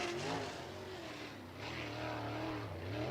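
A sprint car engine roars at Lincoln Park Speedway during a USAC National Sprints race, a loud continuous howl that eases briefly and then climbs again as the throttle reopens through the turns.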